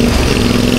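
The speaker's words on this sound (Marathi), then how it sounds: "650 रॉयल एनफील्ड." A Royal Enfield 650 motorcycle engine rumbles close and loud in a brief, steady burst, with no pause or change in pitch.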